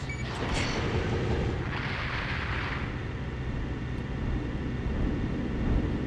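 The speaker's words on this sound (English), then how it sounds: "Something's exploding off." A deep, rumbling explosion in Armored Core 6, heavy and sustained like distant artillery, filling the scene with a continuous roar and no talking.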